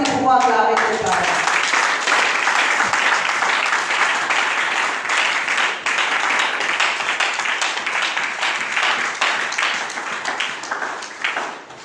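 A church congregation applauding after a sermon, sustained dense clapping that fills the room at steady loudness, with voices mixed in and a slight fade at the end.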